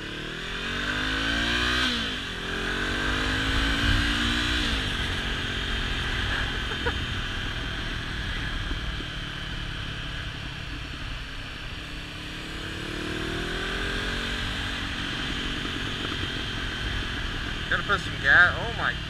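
Honda CB500F motorcycle engine idling and running steadily nearby, with a couple of brief revs early on.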